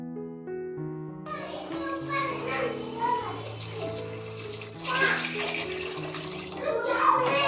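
Water pours steadily into a pot of rice with a continuous splashing rush, over faint background music and voices.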